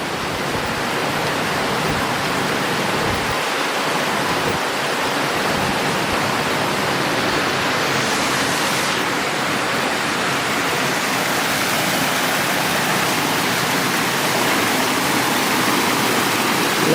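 A mountain stream rushes and pours steadily at a trout farm, a loud, continuous broadband roar of flowing water that stays constant throughout with no voices.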